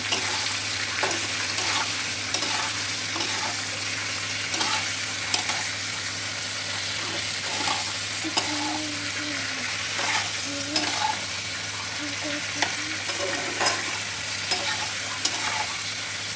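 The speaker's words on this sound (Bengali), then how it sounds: "এবার এটা এদিকে ভাজা হচ্ছে" Onions and vegetables fry and are stirred in a pan, a constant close sizzle broken by repeated scraping stirs of a utensil against the metal throughout.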